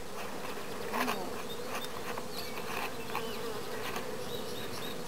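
Honey bees buzz steadily around hives as nucs are installed in May, a close, continuous droning hum with individual bees passing by the microphone.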